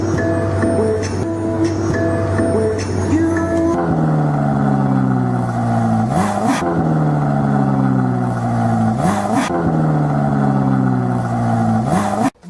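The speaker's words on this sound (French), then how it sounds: "Je vous emmène faire un tour de Ferrari." A Ferrari car engine revs repeatedly, rising and falling in pitch in several loud, close pulls after a steady idle-like drone, with no talk.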